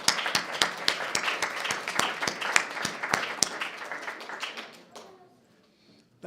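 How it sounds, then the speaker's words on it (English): Audience applause at a Board of Education meeting, a busy spread of hand claps with sharp rhythmic claps on top, thinning out after about five seconds. "Let's give them another big round of applause."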